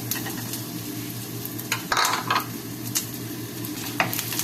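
Onions sauté in a pan on a home stove, with a continuous close sizzle. Occasional utensil scrapes and stirring clatters come through, and there is no talking.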